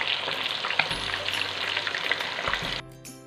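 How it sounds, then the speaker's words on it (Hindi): Chicken pieces for Lahori chargha biryani fry in hot oil in a pan with a steady, dense close sizzle and crackle that drops away sharply near the end. "दोनों तरफ से चिकन को 5-5 मिनट के लिए फ्राई करेंगे ताकि इसका बहुत अच्छा सा जो है क्रस्ट बन जाए"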